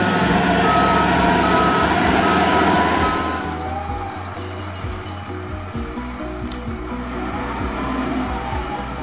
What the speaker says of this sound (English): at least they've got the diggers out trying to clear it